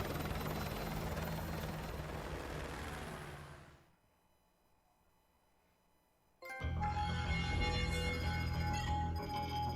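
Loud, steady helicopter rotor drone in a Modern Warfare 2 Campaign Remastered game scene, cutting out to near silence for a couple of seconds before surging back at full strength.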